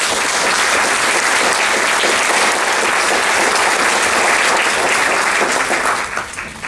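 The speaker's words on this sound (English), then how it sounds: "let's just give her a round of applause" A crowd at an annual volunteer recognition event applauds a volunteer, loud, dense and continuous clapping from many hands that holds steady for several seconds before tapering slightly.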